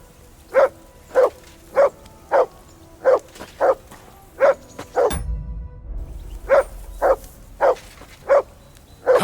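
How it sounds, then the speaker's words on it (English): A dog in Kingdom Come: Deliverance II barks repeatedly in a steady rhythm of sharp, loud, close barks, broken once by a brief low rumble before the barking resumes. "That barking was a pain in the ass."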